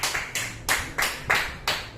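A church congregation claps in rhythm, sharp hand claps landing in a steady beat about three times a second, close and lively with no talk.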